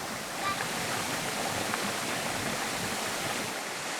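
Waterfall on a mountain river in rural Bolivia, a steady broadband rush of falling water that holds evenly loud and close throughout, with no voices rising above it.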